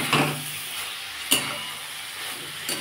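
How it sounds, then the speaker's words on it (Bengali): Soybeans stir-fried in a pan for a moong dal dish give a soft continuous sizzle, broken by two brief sharp scrapes or clinks of a spatula against the pan, close and without speech. "এবার এটাকে সোয়াবিনটা দিয়ে ভালো করে একটু কষিয়ে নেব।"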